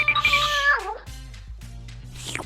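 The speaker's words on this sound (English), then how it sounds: "What is this suspicious meowing?" A cat meows loudly and close, one long drawn-out wail that bends downward, followed by a couple of shorter quieter mews.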